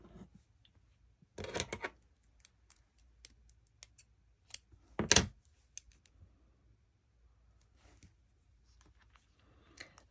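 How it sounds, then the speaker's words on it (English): Sharp scissor snips cut a strand of yarn, with two distinct crisp cuts spaced apart amid quiet handling clicks and rustles, close and otherwise hushed. "I'm gonna cut another strand"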